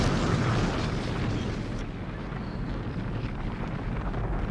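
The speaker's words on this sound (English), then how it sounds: "So here we are going to destroy the Enterprise." The starship Enterprise blows apart in a Star Trek film explosion, a loud, sustained low rumbling roar that slowly eases off, no voices.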